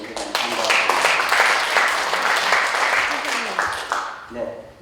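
Delegates at a general assembly of a Korean digital photographers' association clap together to approve a motion, a dense roomful of applause that tapers off near the end as talk resumes.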